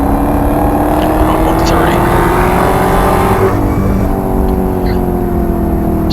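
A Dodge Hellcat accelerates hard down a race track straightaway, heard from inside the car: a loud, sustained engine roar whose pitch climbs steadily through the gear, then drops at a shift and starts rising again.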